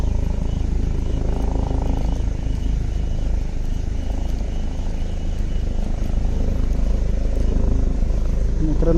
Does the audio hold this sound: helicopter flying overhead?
yes